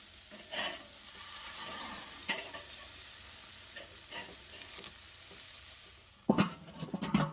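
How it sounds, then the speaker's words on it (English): Hamburger patties searing on a Weber grill, a steady close sizzle and hiss with occasional scrapes and clatter, louder handling noise near the end. "So a good minute for that to sear in there"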